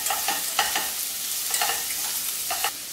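Zucchini with fresh herbs being stirred as it fries in a pan, a steady sizzle broken by several sharp scraping strokes of the spoon, close and moderately loud, no voices.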